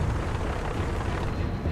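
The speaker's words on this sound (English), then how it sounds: "The earth is shaken with explosions." Battlefield explosions in wartime archival footage of tank combat roll as a dense, continuous low rumble of booms, loud and unbroken throughout.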